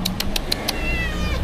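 A cat meows close by on Pangkor Island, Malaysia, a drawn-out, wavering cry, with a few short high chirps before it and faint background noise.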